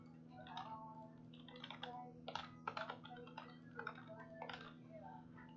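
Someone types on a computer keyboard in irregular bursts of soft, quick key clicks over a steady low electrical hum, fairly quiet and close, with brief pauses between flurries.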